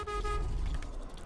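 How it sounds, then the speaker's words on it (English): Horn honking from a vehicle in the sci-fi train game Voidtrain, a sustained tone over a deep rumbling engine drone, loud and close for about a second. "They heard my honking."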